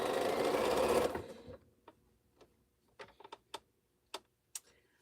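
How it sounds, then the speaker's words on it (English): A sewing machine stitches quilt string blocks in a steady, fast whirring run for about a second, then stops, followed by scattered sharp clicks and taps of handling the machine and fabric, close and fairly quiet with no talking. "it'll be interesting if I'm able to sew these blocks or not"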